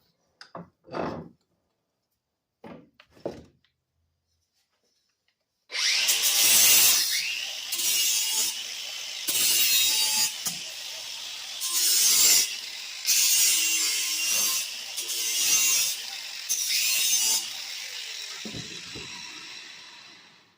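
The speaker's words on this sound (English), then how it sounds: "we're going to spin the blade around and take this burr off" A file or grinder works the burr off a sharp riding mower blade, giving several loud, bright rasping strokes in bursts with short gaps, after a few faint knocks and handling sounds at the start.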